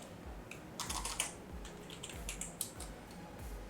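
Computer keyboard keys click lightly at close range, a quick irregular series of soft taps with no talking.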